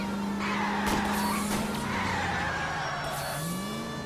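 A car in the video game L.A. Noire skids with a long wailing tire squeal and rolls over, engine droning underneath, several squeal bursts in a few seconds.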